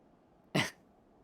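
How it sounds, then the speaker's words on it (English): A single short, sharp cough from a Final Fantasy XIV character, one brief burst lasting a fraction of a second against near silence. "Cough and wheeze."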